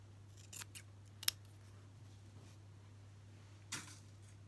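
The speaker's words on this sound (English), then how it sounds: "I'll just trim off a little bit more off the side." Scissors trim fabric for a wildflower meadow collage, giving a few faint, scattered snips: two close together near the start, a sharper one a moment later and a final one toward the end, over a low steady hum.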